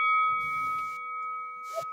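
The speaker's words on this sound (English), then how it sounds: "you're gonna hear a little weird bell going off in 10 seconds" A bright electronic bell dings once to start a live trading tournament, ringing on as a clear sustained tone before a faint second chime near the end, with no talk.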